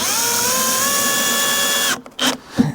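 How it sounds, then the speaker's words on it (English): Power drill countersinking holes in MDF while building recessed fireplace shelves, a loud steady whine close by for about two seconds, then stopping, followed by a couple of short handling clicks. "the whole reason to countersink properly"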